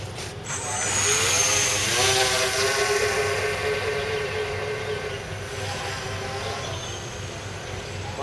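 A twin-fan RC airboat runs on the water in Hong Kong, its two fans driving it with a loud, steady motor whine that swells early and then holds at an even pitch, heard alone without voices.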